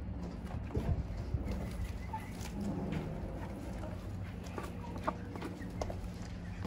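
Hens in a backyard coop cluck quietly and intermittently over a low rumbling background, soft and fairly close with occasional brief peaks.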